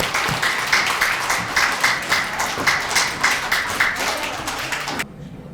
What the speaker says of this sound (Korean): 우리 그걸로 다 같이 박수로 경례해 주십시오